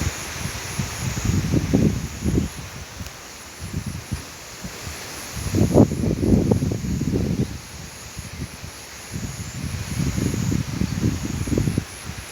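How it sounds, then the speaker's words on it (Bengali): Strong gusty wind sweeps through a home garden with a papaya tree, leaves rustling in surging bursts that rise and fall over a steady faint hiss, with no talking. "আজকে কিন্তু প্রচুর বাতাস"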